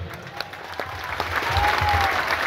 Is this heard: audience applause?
yes